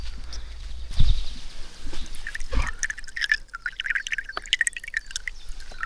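Water drips and trickles from a camping filter rated to 1 micron at an outdoor campsite, with two dull thumps early on, then irregular close drips and splashes over quiet background.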